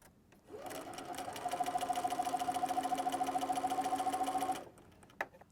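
Sewing machine stitching fabric pincushion pieces together, one steady continuous run of rapid rhythmic needle strokes lasting about four seconds, close and fairly loud, followed by a brief knock as it stops.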